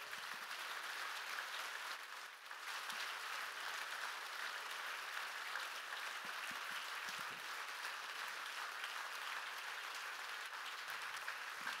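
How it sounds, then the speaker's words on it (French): An audience applauds steadily at an event, a dense, sustained patter of many hands clapping for about twelve seconds, moderately distant and even in level. "Sophie Wilmès qu'on peut encore une fois applaudir"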